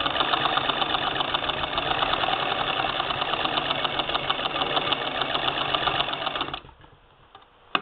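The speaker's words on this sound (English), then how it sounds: "I'm going to do a few stitches and then do the back tack here for that extra strength" A 1947 Singer Model 66-16 sewing machine running a straight stitch and back tack, giving a loud, close, rapid mechanical chatter that holds steady for several seconds, then stops abruptly and leaves quiet with a final click.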